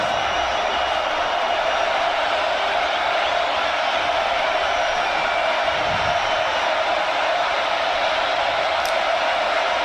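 A stadium crowd at the 2023 Florida at Missouri college football game keeps up a dense, constant roar of voices, loud and unbroken throughout, with faint whoops rising in the mix.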